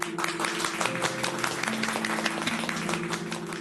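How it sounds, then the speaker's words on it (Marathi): Steady, dense clapping from a studio audience at a staged event in a Marathi TV serial, continuous and fairly loud for the whole stretch with a faint crowd murmur beneath. "टाळ्या टाळ्या"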